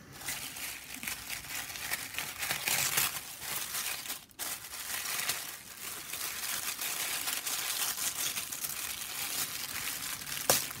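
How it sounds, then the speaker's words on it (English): Paper wrapping on a mystery box of vintage ephemera is unwrapped with steady crinkling and crackling, occasional tearing bursts, and handling noises close to the microphone throughout. "Try not to tear too much of the paper."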